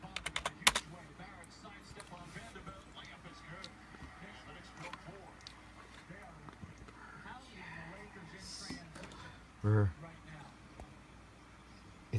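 Someone enters a password on a computer keyboard at a Windows Vista login, giving a brief quick run of light key taps near the start, followed by quiet room noise and a few faint clicks, with a voice speaking.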